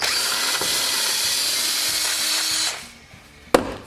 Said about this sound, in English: So I drill that out.